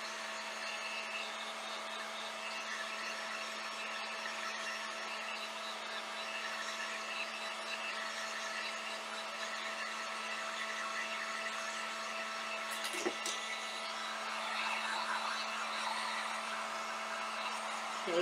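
A hair dryer blows steadily to dry damp Mod Podge on a chalk-paste craft decoration, a constant close whir with a steady hum that runs unbroken throughout, with no talking.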